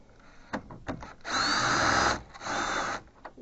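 A power driver fitted with a Torx 30 bit whirs in two short bursts, removing screws from a 2006 Audi A6 C6 TFSI during disassembly of the dehydrator, with faint clicks and handling noise between the runs.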